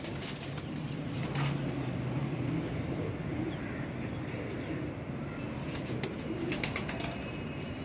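A breeding pair of pigeons gives soft, low cooing beneath a constant hiss of background noise, with scattered sharp clicks and rustles nearby.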